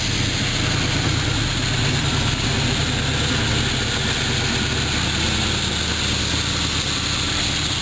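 The engine of a 1976 Corvette runs at a steady idle, a loud, continuous low rumble and drone that does not change, with no voices.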